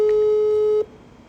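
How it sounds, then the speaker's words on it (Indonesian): A telephone busy signal sounds as a single loud, steady electronic tone for under a second, then cuts off abruptly, leaving faint room noise. "Coba telepon Gina ya"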